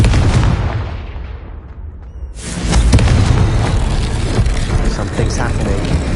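A Confringo blasting spell detonates in Hogwarts Legacy, a loud booming blast with a rumbling tail, followed by a second heavy burst and continued roaring noise, while a voice calls out over it.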